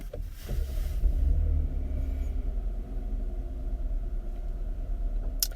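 Low, steady engine rumble of a 2021 Kia Telluride SUV with a 3.8-liter gas direct-injected engine on the move, droning evenly from inside the cabin with a faint click near the end.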